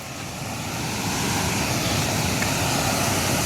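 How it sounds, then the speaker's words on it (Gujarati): Heavy water surges through a single open gate at the Mokeshwar dam, heard from close by as a dense, continuous roar that builds slightly and then holds steady. "જુઓ એક ગેટ ખુલ્યો છે છતાં બહુ જ ભારે માત્રામાં પાણી આવે છે"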